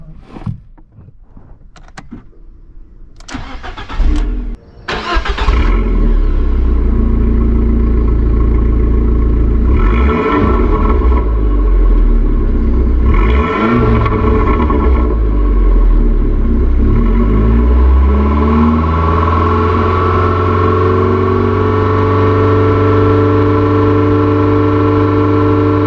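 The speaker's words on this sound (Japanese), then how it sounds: "エンジン音を聞いていただきます。" An Abarth 500 with a worn, neglected interior cranks briefly and fires up, then settles into a loud, close idle broken by two sharp revs around the middle before holding a steady rumbling idle, with no talking.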